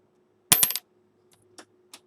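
A 1982 large date copper cent is dropped onto a paper-covered floor. One sharp bright strike and a quick ringing bounce come first, then three fainter taps as it settles. The sound is close and isolated, with no talk.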